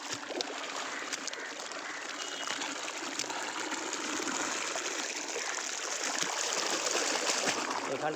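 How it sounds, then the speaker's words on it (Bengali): Water flows continuously into footing pits at a house construction site, a steady broad rushing wash with faint splashes, with no clear talking. "এটা দিয়ে জল যাচ্ছে কন্টিনিউয়াস"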